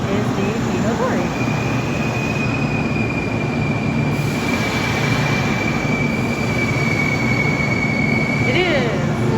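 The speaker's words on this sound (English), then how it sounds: "So this is the train we're going to be riding on today." A Kintetsu Railway Hinotori limited express train passes close by, with a steady loud rumble of wheels on track and a long high-pitched squeal running through most of the passage.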